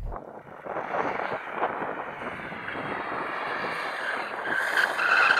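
A new BMW M2 drifts with its tires skidding, making a continuous loud rasping roar of rubber and engine that holds steady and swells toward the end.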